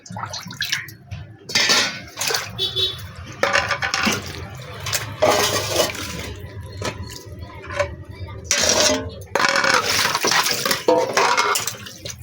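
Tilapia pieces are rinsed in a bowl of clean water in a home kitchen, with splashing, sloshing and occasional clinks of a vessel in close, uneven bursts, while a voice speaks intermittently.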